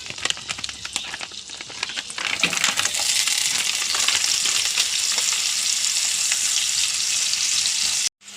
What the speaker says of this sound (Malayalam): നമുക്കതിൽ പനീർ വറുത്തെടുക്കാം